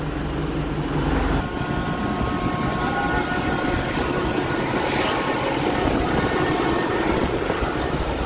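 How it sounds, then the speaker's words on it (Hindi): A tractor with a Shaktiman rotavator attached drives along, making a loud, steady rumbling drone with mechanical clatter. It runs continuously throughout. "अभी लेकर चल रहे हैं ट्रैक्टर को सीधा जाने के लिए"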